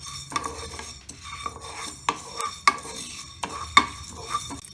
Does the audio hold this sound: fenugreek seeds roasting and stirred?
yes